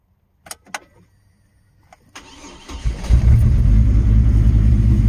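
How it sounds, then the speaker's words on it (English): A car engine, jump-started from a cordless drill battery after sitting about ten minutes, is heard up close: a few sharp clicks, then a brief crank before it catches into a steady, loud running idle. "I'm gonna go ahead and crank it"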